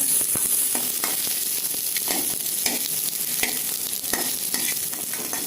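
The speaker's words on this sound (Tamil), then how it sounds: "ஆனியனும் வதக்கணுங்க" Onions sauté in a pan after dried red chillies for millet idli, with a steady close sizzle broken by regular scraping stirs roughly every second, no voices.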